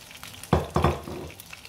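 Garlic and cumin seeds hitting hot oil in a pot, a few sharp bursts of crackling sizzle close up, settling into a quieter fizz.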